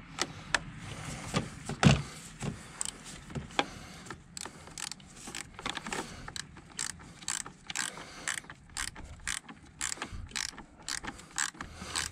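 Battery terminals on a 2002 Dodge Caravan are tightened with a hand tool, making a long series of close, short ratcheting clicks in irregular bursts, with one louder knock early on, alone without talking.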